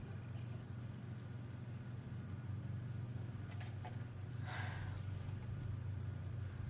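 A lawnmower drones steadily in the background outdoors, a low continuous engine hum that holds throughout, with a few faint brief rustles and clicks on top and no speech.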